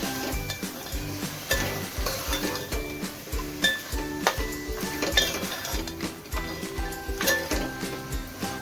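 Chicken curry sautéed in a pan, a steady sizzle under repeated scraping and clinking of a utensil against the pan, close, rhythmic and alone.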